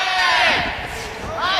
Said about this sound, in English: Plenty of cheering just behind us here for him